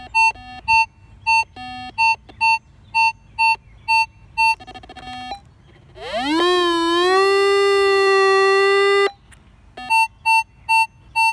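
A Minelab Equinox metal detector's regular beeping pulses give way to a rising, sustained high-pitched tone lasting a few seconds, then the even beeps resume.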